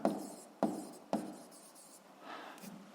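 Pen on paper: three crisp taps as the tip meets the page, each trailing into quiet scratching strokes, then lighter scribbling, close and faint against a low background hum.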